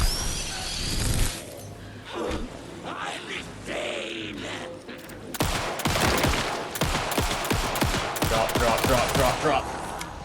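Shotgun and weapon fire in the video game Alan Wake 2: a few scattered blasts at first, then a dense run of loud, sharp shots packed closely together, with faint talk in the background.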